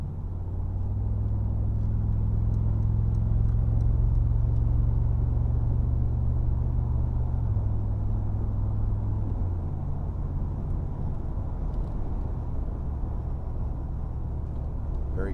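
A Mercedes-AMG G63 SUV driving with the sunroof panel open: a low, steady engine rumble and road noise, subdued and continuous, with the engine note dropping slightly partway through.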